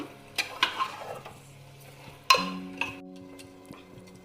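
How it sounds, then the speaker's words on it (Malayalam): Biryani ingredients with fried onions being stirred together in a pressure cooker, a few sharp clinks of a spoon against the metal pot over a faint background hum, no talking. "ഇനി എല്ലാം കൂടി നന്നായിട്ടൊന്ന് മിക്സ് ചെയ്തെടുക്കണം."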